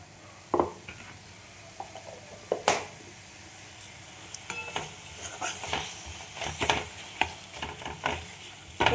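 Masala for a soybean curry with turmeric and jaggery stirred and fried in a pan: low steady sizzle broken by repeated sharp scrapes and clinks of a spatula against the pot, close and unhurried, no voices.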